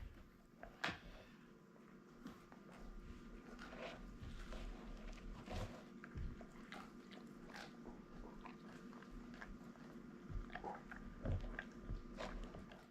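A pet crunches and chews food up close, with steady wet munching and intermittent louder crunches over about thirteen seconds, punctuated by occasional sharper bites.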